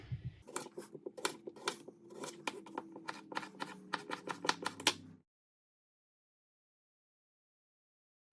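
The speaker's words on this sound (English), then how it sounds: "For the potatoes, same cutting board, same knife. I grabbed 2, and I'm just gonna dice them up." A knife dices potatoes on a cutting board in rapid, steady chops that knock crisply for about five seconds and then stop, leaving silence.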